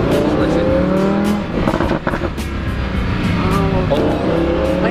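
A Lamborghini Huracan engine revs and pulls hard, a loud, close, sustained roar with rising and falling pitch sweeps, while a voice briefly speaks beneath it.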